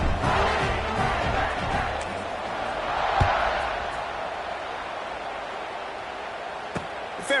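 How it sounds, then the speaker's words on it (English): A large stadium crowd at a Pitt football game keeps up a broad, steady roar and murmur after a touchdown, loud at first and easing slightly, with a few sharp thumps in the mix. "this crowd is buzzing after that last score"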